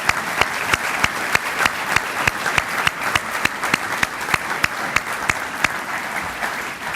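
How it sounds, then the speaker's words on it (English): Guests at a high school president's dinner give a sustained round of applause, dense clapping with regular sharp individual claps ringing through, even and moderately loud for several seconds. "Let's give them a round of applause."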